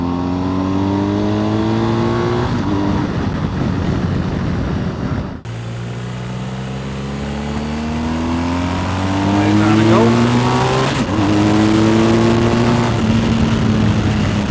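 BMW M1000R motorcycle engine revving up and down, loud and close, pitch climbing through the gears and dropping off between runs, with a brief cut mid-way.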